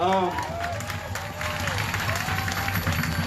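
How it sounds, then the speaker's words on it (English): Crowd applause at a live gathering in Austin, Texas, steady clapping from many people with a voice speaking over it at the start and some background murmur. "You can clap for that."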